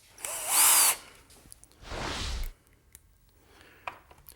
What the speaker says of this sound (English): Let me screw this down here.